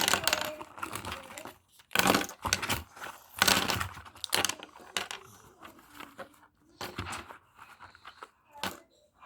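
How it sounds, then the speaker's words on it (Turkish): Pens and pencils tipped out of a plain pencil holder, giving a run of clattering, rattling drops and knocks in irregular bursts, fairly close and alone with no talk. "Şöyle boşaltalım kalemliğimi."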